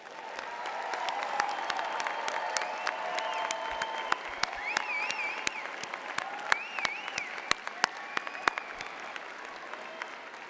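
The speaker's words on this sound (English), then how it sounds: "let's give them one more round of applause" Sustained applause from an audience at a nursing college commencement ceremony fills the space, a dense patter of clapping with a few louder claps standing out and faint voices underneath.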